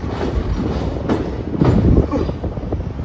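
A train in Kerala rumbles past close by, a steady loud roll of wheels on rails with a couple of sharp clanks.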